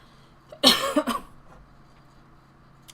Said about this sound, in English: I'm coughing, but like I'm not sick anymore. I just have phlegm in my chest.